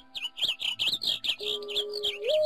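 Birds in a Minecraft Mo Creatures mod give a rapid string of high tweets and chirps, near and steady, followed by a sustained tone near the end.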